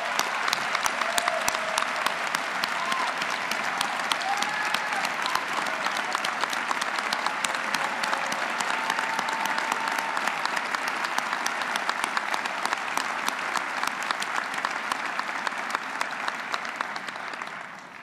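A crowd applauds outgoing Atlanta mayor Kasim Reed at Keisha Lance Bottoms' inauguration, with many hands clapping in a loud, dense, unbroken roar that runs for about eighteen seconds before beginning to fade.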